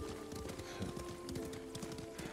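Rhythmic clip-clop of horse hooves at a riding pace in the samurai video game Ghost of Tsushima, steady and moderately close over a low game ambience, with a faint whinny and no talk.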